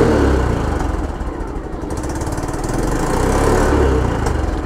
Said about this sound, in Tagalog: pakinggan natin yung tunog. Okay, ng maling paghawak or maling posisyon ng kamay sa throttle.